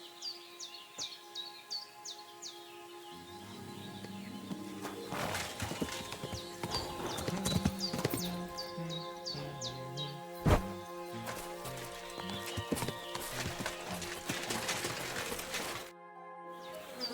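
Hooves clip-clop steadily from a galloping horse in the medieval video game Kingdom Come: Deliverance II, with a whinny and chirping birds in the background; the hoofbeats grow busier and louder through the middle before a brief cutoff near the end.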